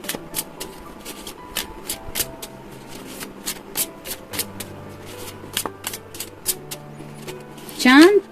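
Tarot and oracle cards are shuffled by hand in a steady run of crisp, riffling bursts, each short flutter close and clear, with a faint voice murmuring underneath and a brief whooshing sweep near the end.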